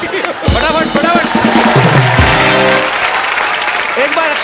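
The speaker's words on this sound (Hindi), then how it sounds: "एक बार अक्षय पाजी, अभिषेक और रितेश के लिए जोरदार तालियां हो जाए।" A studio audience at a comedy talk show bursts into loud, sustained applause, with a voice speaking over the clapping for a couple of seconds before it carries on alone.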